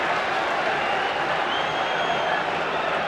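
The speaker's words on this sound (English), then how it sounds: "the applause is as loud as you get for a goal being scored" Football crowd in a 1998-99 match involving Gillingham applauding loudly as a ball is booted clear after a handball, a broad steady roar of clapping and cheering held at a constant level without a break.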